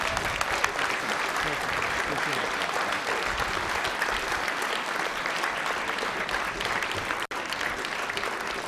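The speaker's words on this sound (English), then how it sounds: "How about a round of applause for our speaker today?" Sustained applause from a luncheon audience at the National Press Club, a dense, steady clapping that fills the room for several seconds without letting up.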